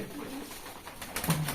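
Pigeons feeding give a short, low coo near the end of a brief moment over soft background noise.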